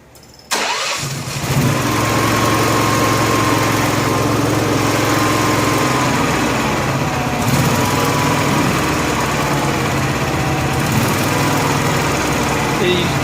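A Honda gas-powered welder generator cranks briefly, catches and then runs at a loud, steady, even drone nearby, with no speech over it.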